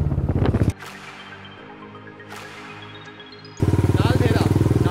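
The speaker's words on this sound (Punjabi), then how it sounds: "ਸੋ ਚਲੋ ਚੱਲੀਏ ਫਿਰ ਆਪਣੀ ਬੁਲਟ ਲੈ ਕੇ ਵਾਪਸ" A Bullet motorcycle near Naldehra thumps loudly with rapid, even pulses, drops to a quieter idle in the middle, then surges back to a strong, close, throbbing beat as it pulls away.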